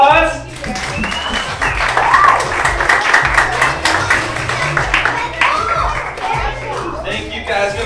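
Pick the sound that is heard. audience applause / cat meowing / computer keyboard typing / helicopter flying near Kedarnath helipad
audience applause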